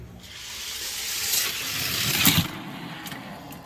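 Hot Wheels die-cast cars roll down a racing track in a qualifying race, a steady rushing rumble that swells toward a brief louder clatter near the end, then settles.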